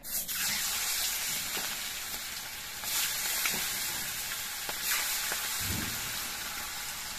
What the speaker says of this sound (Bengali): এবার কয়েক পিস মাছ আমি একসঙ্গে দিয়ে ভেজে নিচ্ছি